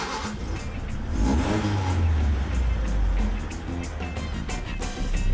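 Classic Sunbeam Rapier engine running with an aftermarket exhaust, a steady low rumble that swells into a revving burst, holds a throaty drone and rises again at the end, close and loud with faint voices underneath.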